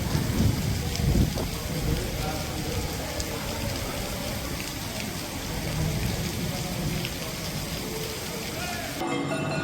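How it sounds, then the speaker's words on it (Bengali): Heavy downpour at the Kapil Muni ashram, Gangasagar, under cloudy skies: dense continuous rain roaring on surfaces with low rumbling, steady and loud for nearly the whole stretch before cutting off abruptly at the end. "পৌঁছাতে ঝমঝমে বৃষ্টি নামলো"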